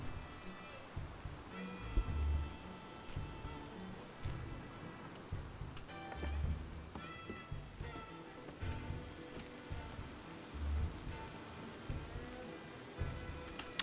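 Rain falls in the Red Dead roleplay game RedM, a faint, steady patter on surfaces with a few slightly louder drops breaking through now and then.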